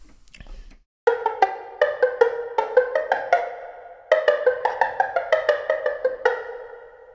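Sampled plucked pizzicato string section from the Strezov Sampling Jade Ethnic Orchestra library playing short, detached notes in a quick melodic run, with a roomy hall ambience around each pluck.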